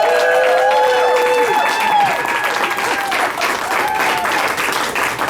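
A loud, dense wave of audience applause and cheering after a performance, sustained throughout, with a few faint tonal ringing notes fading beneath the clapping.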